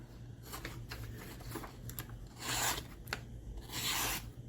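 Mora knife with a Scandinavian grind slicing through material, soft close rasping cuts with a few louder scraping swells where the edge catches, quiet and without speech.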